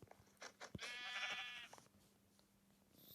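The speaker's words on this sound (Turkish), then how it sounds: "Evet bir tane daha koyun buldum." A sheep in the Minecraft video game gives one clear, wavering bleat lasting about a second, preceded by a few short clicks and followed by quiet game ambience.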